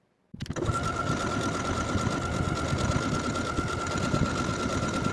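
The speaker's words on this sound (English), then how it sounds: "I'm going to sew the buttonholes at the markings." A sewing machine stitching buttonholes into the front bodice of a jumpsuit starts abruptly and then runs in a steady, fast, continuous whir close by, with no talk over it.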